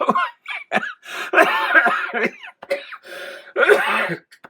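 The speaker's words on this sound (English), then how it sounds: "Gave myself a coughing fit." A person has a close, loud coughing fit, with repeated harsh coughs and throat clearing coming in uneven bursts separated by short pauses.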